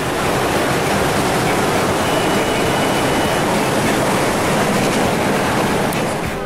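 Torrential rapids of the Huallaga river at Malpaso Chumía send up a loud, steady roar of rushing water that fills the whole stretch without letup, with no voices over it.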